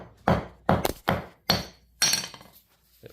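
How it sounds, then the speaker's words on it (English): A hammer smacks a knotted ratchet strap five times in an uneven rhythm, each blow a sharp, close thwack with a faint metallic clink, the last hit ringing out briefly into quiet. "if you take your hammer, set that down, smack it a few times"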